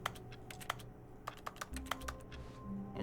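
Keyboard typing inside The Stanley Parable video game: a steady run of sharp, quiet key clicks in irregular bursts, fairly close, over a low ambient office hum.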